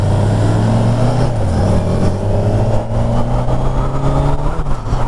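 A 2022 Kawasaki Ninja 1000SX motorcycle engine accelerates smoothly while riding, a loud, steady engine drone rising through the gears with a brief dip as it shifts, heard close up over wind noise.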